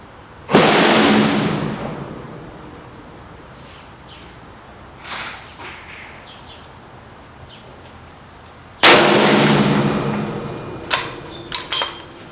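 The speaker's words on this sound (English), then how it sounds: "I'm going to reach back and slowly pull the trigger." Two sharp, loud rifle reports fired from a bench rest, each with a long rolling echo trailing off, separated by a quiet gap with faint handling noises.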